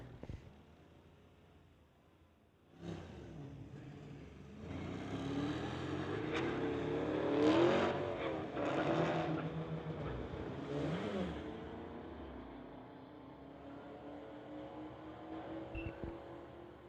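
Two drag cars, a 2010 Dodge and a Camaro, launch and roar down the strip, engines swelling loud then fading into a steady distant drone. No speech over it.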